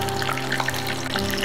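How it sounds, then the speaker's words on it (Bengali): Spicy chicken sausages frying in hot oil, a steady dense sizzle and crackle that holds at an even loudness throughout, close up with no voices. "চিকেন সসেজগুলো আমি দিয়ে দিচ্ছি তেলে।"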